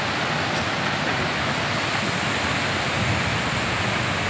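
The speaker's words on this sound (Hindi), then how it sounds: "झरना दिखे ना।" Bhelughat waterfall, a constant broad roar of falling water, loud and unbroken, heard alone without talk.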